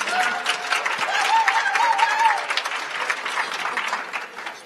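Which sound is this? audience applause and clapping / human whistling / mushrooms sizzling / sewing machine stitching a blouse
audience applause and clapping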